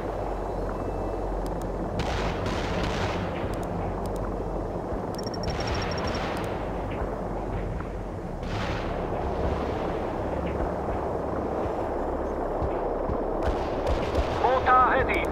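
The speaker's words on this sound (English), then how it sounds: "We're attacking in our barrage" An artillery barrage in the game World in Conflict rumbles as a continuous heavy roar with repeated booming impacts, some closer and sharper, others distant, filling the whole stretch without letup.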